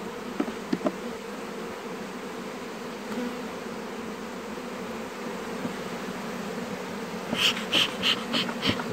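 Honeybees buzz steadily around an open hive, a dense, even drone close to the listener, with a few sharper knocks and rattles near the end.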